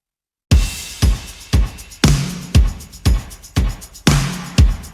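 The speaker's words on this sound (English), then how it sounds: "So I added a tambourine and a shaker loop." A tambourine and shaker loop for a folk worship song, with sharp jingling hits on a steady beat, some accents heavier with a low thump, repeating evenly and alone without voices.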